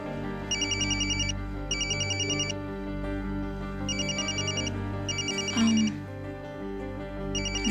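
A telephone rings repeatedly in bursts over a soft music bed during a late-night scene in a television soap opera, the rings steady and fairly close.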